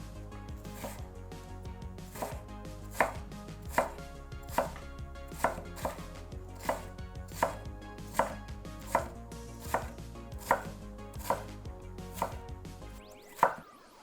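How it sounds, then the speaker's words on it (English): A knife chops bundled matchstick-cut vegetable sticks into even cubes on a board, about twenty crisp, evenly spaced cuts in a steady rhythm over a low background hum, ending with one louder knock. "we'll gather up the sticks, line up the bundle on one end, and cut into even cubes"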